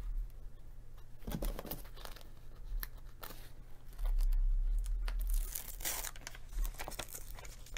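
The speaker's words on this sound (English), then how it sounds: "I'm going to tear the paper out." Paper being torn by hand while making a Dollar Tree DIY wedding centerpiece, a series of ripping sounds with one longer, louder tear in the middle, close up and with no talking.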